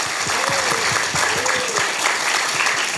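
University students in a lecture hall breaking into dense, loud applause that fills the whole three seconds, with a voice briefly audible through the clapping.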